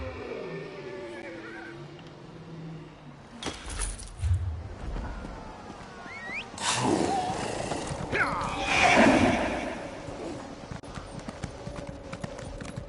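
Horses whinny loudly a few times amid hoof clip-clops and scattered sound effects in a PS4 video game, with a brief murmur of talk early on.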